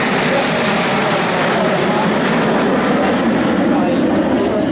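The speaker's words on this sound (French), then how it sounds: "cette figure est notamment rendue possible grâce au comité de vol extraordinaire de l'Alpha Jet, appareil qui nous permet de voler avec précision" Alpha Jet aircraft of the Patrouille de France flying at an air show, a steady loud broadband jet roar that holds throughout without a break.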